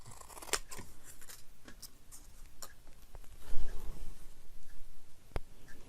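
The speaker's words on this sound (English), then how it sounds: "Probably could just cut it in half." Scissors cut a dried glitter glue craft in half, giving several crisp close snips and crunchy cuts, followed by a short rustling handling noise, with no talking.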